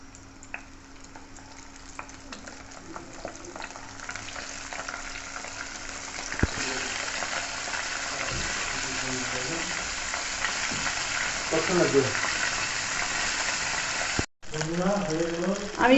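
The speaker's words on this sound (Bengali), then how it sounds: "এখন আমি তেলে ভেজে নেব" Lotte fish, or Bombay duck, coated and frying in hot oil, sizzling that swells and grows louder after the first few seconds, with stirring scrapes, a brief dropout and a voice speaking at moments.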